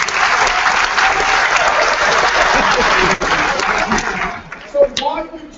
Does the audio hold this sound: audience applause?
yes